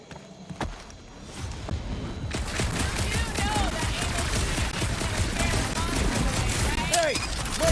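Rapid sustained gunfire in the video game Guardians of the Galaxy, dense bursts of shots starting after a quieter opening and continuing loudly to the end.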